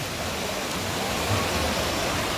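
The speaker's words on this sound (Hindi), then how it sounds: "इस तरीके का एक झरना जा रहा है" A waterfall at a Darjeeling viewpoint gives off a steady, loud, broadband roar that holds even for a couple of seconds without voices.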